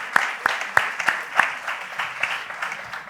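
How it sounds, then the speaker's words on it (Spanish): An audience applauds at a talk on type 2 diabetes with a steady patter of hand claps and a few sharper claps standing out, moderately distant and continuous throughout. "Un fuerte aplauso para ella"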